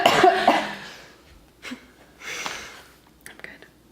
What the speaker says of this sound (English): I had to cough that whole time.